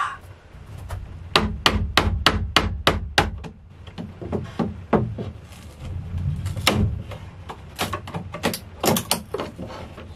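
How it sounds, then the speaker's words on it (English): Sharp hammer blows on wood at a split by a knot, a quick run of evenly spaced strikes, then a pause and more scattered, irregular knocks, close and fairly loud. "Maybe I can hammer this through."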